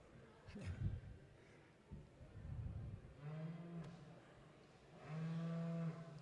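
Dairy cattle being moved into the show ring at a spring dairy show in Ontario during milking-cow classes. Several loud, drawn-out moos come from near and farther off, mixed with shuffling and low background noise.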